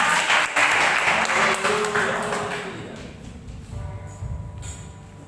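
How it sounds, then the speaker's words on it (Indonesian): Church congregation at a Sunday service applauding, a broad wash of clapping that fades after a few seconds, with a ringing tone and room echo beneath it. "Berikan tepuk tangan untuk Tuhan."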